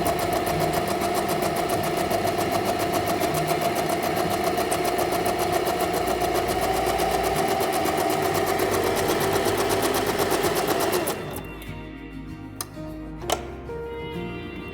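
A Venecia sewing machine set to a shorter stitch runs steadily and fast for about eleven seconds, a dense rapid mechanical chatter, then stops, leaving faint clicks and handling noises close by.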